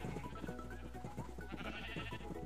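Sheep bleating in Minecraft during a mixed arcade minigame, a steady run of nasal game-style bleats layered over a continuous low hum, fairly loud and with no talk.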